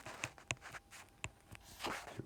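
Pen or marker scratching on a writing surface while sketching asymptotes, a few quiet, short strokes and taps at an irregular pace, close and faint.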